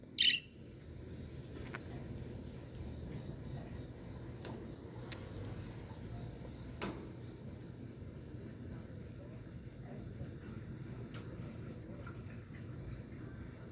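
Pet parrots kept as a male and female pair give sparse, short chirps and a brief sharp call at the start, fairly faint against a steady low indoor background rumble.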